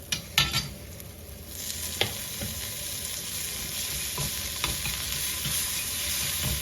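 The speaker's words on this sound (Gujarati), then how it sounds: "આપણે આ જે ડ્રાય ચટણી બનાવી છે વડાપાઉની એ નાખીશું અને આપણે એને બરાબર મિક્સ કરીશું" Dry vada pav chutney is stirred in a frying pan, with a soft continuous sizzle and several sharp scraping taps from a spatula, close and without talk.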